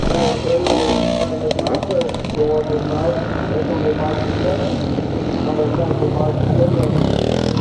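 Classic scramble motorcycles at a charity race in Northern Ireland climb a hill, a pack of engines droning and revving loudly and continuously, with a commentator talking over the noise.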